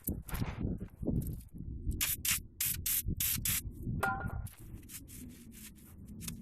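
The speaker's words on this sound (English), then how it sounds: "carbon choke cleaner is basically what this is that I'm using" Carbon choke cleaner sprays onto car parts during a Maserati GranSport ball joint dust cover replacement, in several short hissing bursts close by, with rubbing and handling noises in between.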